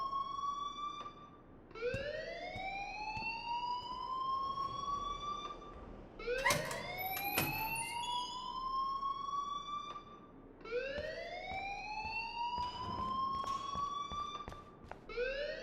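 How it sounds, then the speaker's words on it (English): An alarm in Life is Strange: Chrysalis rings as a loud, repeating siren. Each tone slowly rises in a long upward sweep and then starts again, several times in a row, with brief overlapping electronic beeps in the middle. "please turn off that alarm since that's your job"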